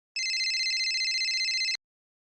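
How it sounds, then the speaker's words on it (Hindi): A phone rings with a bright, rapidly trilling electronic tone, one unbroken burst of about a second and a half that starts abruptly, then cuts off sharply into silence. "सर पप्पू थकेले का फोन आ रहा है"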